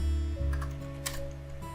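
Typing a terminal command on a computer keyboard, a few light, close key clicks over a steady electronic hum.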